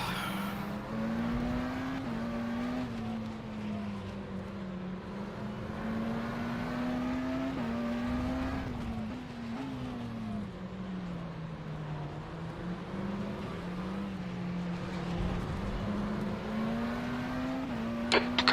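Race cars in the sim rFactor 2 at the Nürburgring drone steadily, one engine's pitch rising and falling through gear changes as other cars pass, continuous and moderately loud.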